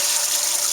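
Water gushes steadily from the automatic pump-out system of a PT33 truckmount tile and carpet cleaning machine, a loud, continuous hissing rush with no pauses.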